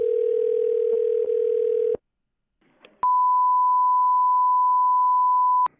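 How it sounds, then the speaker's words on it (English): A telephone line while calling a shop plays a steady low tone for about two seconds, then after a short gap of faint noise a clean, higher continuous tone holds for nearly three seconds before cutting off. "let's get shop number 4 on the phone"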